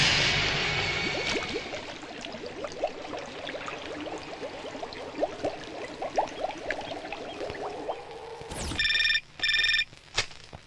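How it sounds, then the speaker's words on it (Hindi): A telephone rings in a tense scene of a Hindi-dubbed action film, breaking in near the end with bright electronic rings in short repeated bursts after a stretch of rushing, clattering background noise. "Sir phone."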